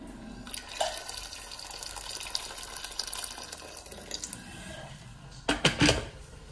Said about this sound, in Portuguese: vou juntar aqui mais um pouco de água fervente